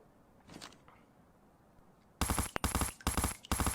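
Rapid automatic gunfire from the F6 weapon in COD Mobile: after a quiet stretch with faint background noise, four loud, sharp bursts of shots follow in quick succession, close and dominant.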